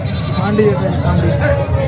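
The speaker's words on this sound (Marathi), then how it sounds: "शेळ्या खूप चांगल्या शेळ्या आहेत मित्रांनो" A goat bleats briefly amid a noisy goat market, with voices talking over it.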